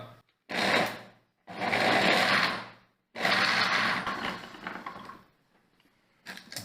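A kitchen mixer grinds raw mango chutney with salt in loud whirring bursts: three long runs of a second or more separated by brief silences, then a short restart at the end.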